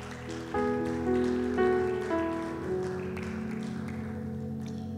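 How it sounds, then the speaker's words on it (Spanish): A church congregation applauds with steady, rain-like clapping that swells and then settles, while sustained keyboard or organ notes ring out above it. "Damos un aplauso al Señor, mis hermanos."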